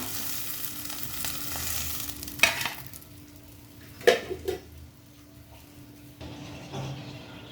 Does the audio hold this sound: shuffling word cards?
no